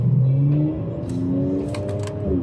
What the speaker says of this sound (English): It was gonna rev all the way up